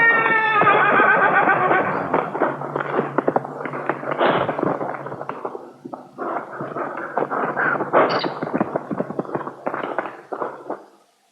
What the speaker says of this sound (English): The filly rises to the occasion with an exhibition of bucking in an attempt to dislodge the saddle